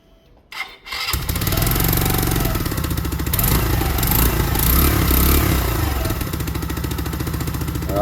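A KTM Duke motorcycle engine starts after a brief quiet moment, then runs steadily and loudly at a warm-up idle, a dense rumbling drone with small fluctuations, close by and with no voices.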